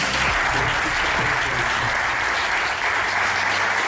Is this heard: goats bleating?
no